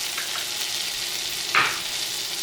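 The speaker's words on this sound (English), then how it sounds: "we're gonna brown the onions" Onions cooking in melted butter in a pan, giving a steady close hiss of sizzling with one brief scrape partway through.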